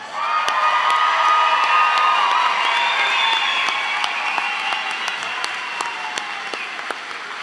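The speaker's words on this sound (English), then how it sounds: "Let's give them all a quick round of applause." A secondary school graduation audience bursts into sustained applause with cheering, whoops and shouting voices, a big crowd roar filling the hall and slowly easing off.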